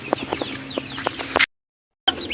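Backyard chickens clucking while eating feed, soft close clucks and a few sharper calls over low farmyard noise, with a brief silent gap near the end.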